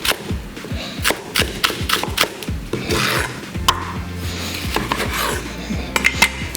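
A sharp knife chops greens on a cutting board at close range, crisp irregular knocks in quick bursts with scraping between strokes and no talk.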